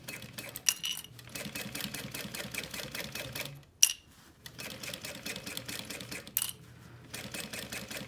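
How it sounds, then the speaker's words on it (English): Sewing machine stitching along the edge of fabric with double-sided tape holding it, the presser foot riding the fabric edge; a steady rapid mechanical chatter runs in long bursts, broken by brief pauses and sharp clicks. "So I am sewing with the exterior face up"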